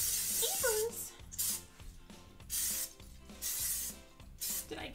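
Bursts of no-stick vegetable oil cooking spray hiss into a baking pan, several short sprays repeated in a loose rhythm, close and fairly quiet, with a person talking briefly at the start.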